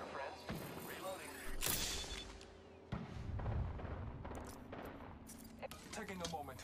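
Video game gunfire, bursts of rapid shots and booms going off in uneven clusters at moderate loudness, with a voice talking over parts of it.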